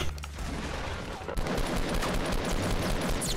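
Dense, continuous gunfire from a crowded Fortnite 50v50 battle, a rapid barrage of overlapping shots that jumps louder partway through and stays thick and close.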